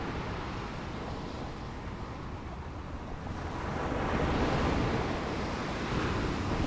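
Steady ocean surf washes in continuously, a broad rushing roar of waves that swells louder in the second half, with some wind noise and no voices.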